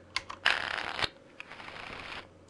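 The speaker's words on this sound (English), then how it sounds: "the first thing you need to do with Dungeon Run is you shuffle the boss deck" The boss deck for the Dungeon Run card game gets shuffled by hand, bursts of riffling cards with crisp flutters and taps, close up, in two main passes.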